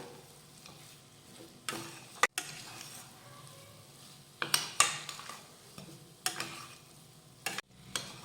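Ghee sheera with cardamom powder and sliced cashews and almonds is stirred in a pan, with close, loud scraping strokes and spoon knocks over a faint sizzle.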